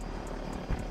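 A helicopter in a video game gives off a continuous, loud whirring rotor-and-engine roar with a faint pulsing beat, with no talking.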